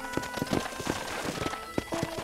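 Horse hooves clip-clop at a steady, fairly quick pace on a brown horse in the Western video game Red Dead Redemption, moderately close with faint background ambience and no talk.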